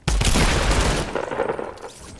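Gunfire rings out in the console game Fortnite, a loud rapid burst of shots with heavy booming impacts that fades into a ragged tail of scattered reports.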